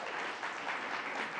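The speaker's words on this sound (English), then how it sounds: "Let's give him a round of applause." Steady audience applause at a governor's jobs announcement for migrants, a short, even burst of clapping heard at a moderate distance.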